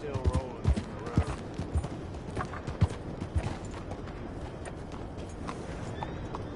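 Horse hooves clip-clop steadily at a walking pace in Red Dead Redemption 2, fairly close and distinct, with occasional snorts and game dialogue voices talking over the ambient outdoor background.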